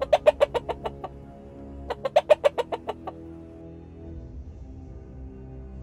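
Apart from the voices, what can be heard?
hen clucking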